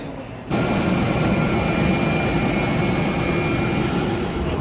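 A Jazeera Airways jet climbing after takeoff makes a steady, loud, broadband cabin roar and engine rush that starts abruptly and holds constant.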